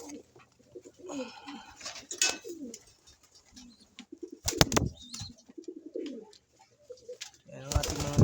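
Soft pigeon coos repeat close by, broken by a couple of sharp bursts of wing flapping.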